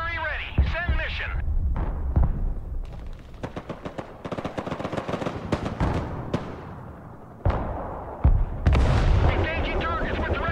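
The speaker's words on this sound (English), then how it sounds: "Mobile artillery ready. Send mission." Mobile artillery in the video game Broken Arrow firing off a rapid series of sharp, heavy booms and cracks that keep going for about ten seconds, with a voice talking over the barrage.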